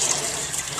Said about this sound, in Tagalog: Pagkagisa natin, lagyan natin ng tubig.